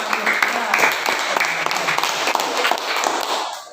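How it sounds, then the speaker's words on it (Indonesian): A classroom of students clapping for a classmate, a dense patter of many hands that stays fairly loud and even for a few seconds, with talk mixed underneath. "Tepuk tangan untuk Dek Bagus ya."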